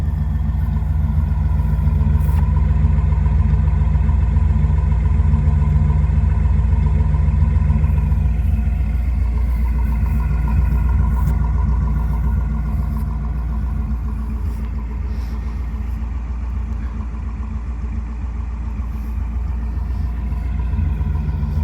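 A 1957 Ford Thunderbird with a 312 cubic inch engine and a Continental kit idles steadily, its exhaust giving a deep, loud, even rumble with a slight clatter that carries through the whole stretch with no talking.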